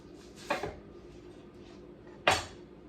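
A knife chops down through the root end of an onion on a cutting board, two distinct sharp knocks about two seconds apart, close and clear against a quiet kitchen background.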